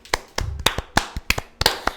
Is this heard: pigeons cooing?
no